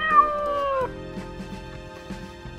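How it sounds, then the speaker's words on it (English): A mother cat calls from a roof below in a children's story: one loud, drawn-out meow with a falling pitch, followed by a softer tonal backdrop. "Mother Cat is calling from the roof below."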